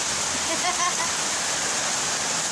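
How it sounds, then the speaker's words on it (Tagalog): Floodwater pours down a staircase like a waterfall, a loud, steady, close roar of rushing water; a voice is heard briefly near the start. "Wow, may falls na tayo ah."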